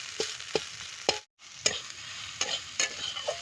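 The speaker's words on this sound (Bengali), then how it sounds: "কাঠের জালে মেথি শাক ভাজা হলো" Fenugreek leaves frying in a pan over a wood fire, a soft continuous sizzle broken by several sharp stirring scrapes at an uneven rhythm, heard close and fairly quiet, without any talk.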